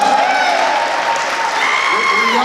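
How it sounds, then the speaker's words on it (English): An audience at a school gathering claps and cheers steadily for the school teams, a dense, continuous wave of applause with whoops and shouts rising through it. "Well, y'all ain't gonna cheer for the Squaws and the Indians?"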